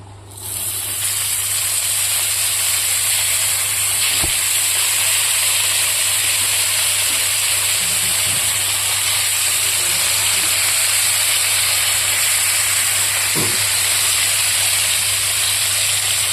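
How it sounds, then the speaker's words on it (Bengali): Fish fries in a hot frying pan with a loud, steady sizzle and hiss that holds unbroken throughout, with a couple of brief knocks partway through. "এবার মাছটাকে ভেজে নিই"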